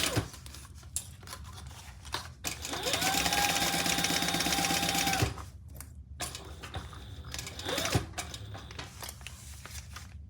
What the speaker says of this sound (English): I'm just going to baste that in place